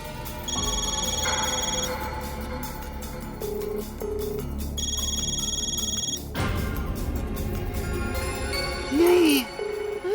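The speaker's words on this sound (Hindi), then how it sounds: "रिंग ही जा रही है।" A landline telephone rings again and again without being answered in an indoor comedy scene: two long bursts of trilling ring with a gap between, over steady background music and faint voices.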